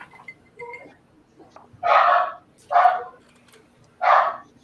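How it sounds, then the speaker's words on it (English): A dog barks three times, loud and close, with the barks spaced about a second apart, after a couple of softer yips at the start. "Puppy dog."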